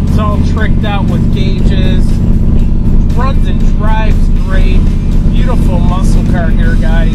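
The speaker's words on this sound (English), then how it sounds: "let's go for a ride in this bad 69 Camaro" A 1969 Chevy Camaro with a 350 V8 muscle-car engine rumbling loudly and steadily from inside the car while driving, with a person talking over the engine throughout.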